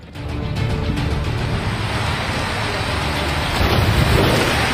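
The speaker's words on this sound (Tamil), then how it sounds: "சென்னை முழுவதுமாக பரவலாக தற்போது மழை பெய்து வருவதை நாம் பார்க்க முடிகிறது" Heavy rain pours down in Chennai, a dense, steady hiss of falling water that grows slightly louder near the end, with a low rumble like passing road traffic underneath.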